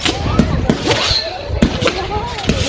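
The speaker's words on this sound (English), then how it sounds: "we go into a firework called Hummeroids, which I love" Hummeroids fireworks at an outdoor display in Liverpool spin off in different directions with wavering whistles and hums, punctuated by sharp pops and crackles, loud and close, with someone speaking over them.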